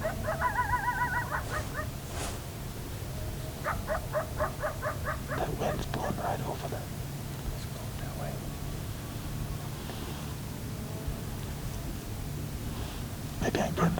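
A coyote barks far off across open hunting country, its faint, scattered yips and barks rising over a low background hiss.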